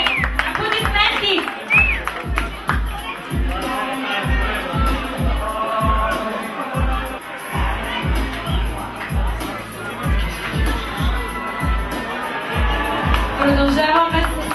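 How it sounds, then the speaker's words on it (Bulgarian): Audience applause at the Miss Sofia 2010 beauty pageant, with a crowd clapping steadily throughout and cheering mixed in, while an announcer's voice carries over the top. "Аплодисменти!"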